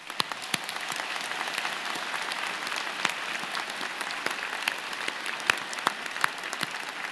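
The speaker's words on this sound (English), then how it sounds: "join me and the platform party in thanking them with a vigorous round of applause" A convocation audience claps in a vigorous round of applause, a dense and steady wash of many hands at moderate distance, with a few sharper claps standing out and no talking.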